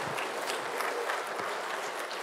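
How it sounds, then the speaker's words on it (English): Audience applause during an atheism lecture, a dense even wash of many hands clapping for a couple of seconds, moderately loud and without talk. "You can clap now."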